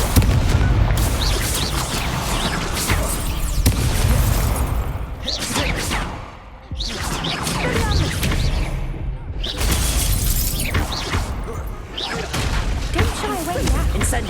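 Fiery spell blasts in Hogwarts Legacy burst out in repeated loud, crackling whooshes with booming impacts, layered with game music and ambience, with brief pauses between casts.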